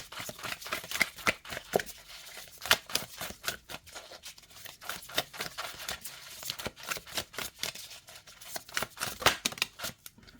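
Tazama African Tarot deck given an overhand shuffle, soft irregular flicks and slaps of cards close up, quiet and continuous with brief clusters of faster strokes and no talking.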